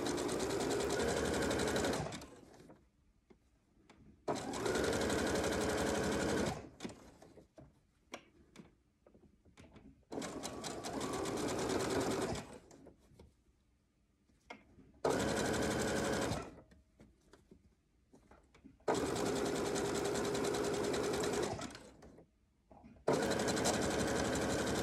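A sewing machine stitches a fabric face mask in several bursts of rapid, loud mechanical whirring, each lasting a few seconds and separated by quiet pauses with small handling clicks.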